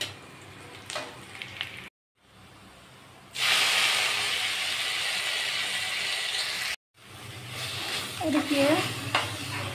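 Cabbage hits hot oil with fried onion and sizzles in a loud, steady hiss, with stirring scrapes before and after and someone speaking briefly nearby.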